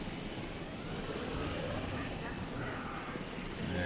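A helicopter in the video game Jurassic World Evolution flies with a steady, dense engine and rotor roar that holds evenly throughout, close and continuous.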